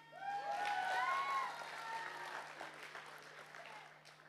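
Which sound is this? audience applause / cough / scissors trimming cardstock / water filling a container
audience applause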